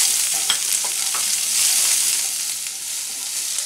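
Chopped garlic and broccoli sautéing in hot oil, a steady dense sizzle with occasional stirring scrapes and clicks, close and continuous throughout.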